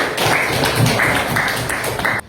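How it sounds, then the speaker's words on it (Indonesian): A classroom group applauds a first team of students, steady dense clapping filling the whole moment at moderate loudness before it cuts off abruptly. "Oke, tepuk tangan dulu untuk kelompok pertama"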